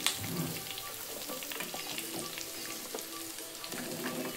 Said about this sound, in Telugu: ఇప్పుడు మనం అరటికాయ ముక్కలు వేసుకుందాము.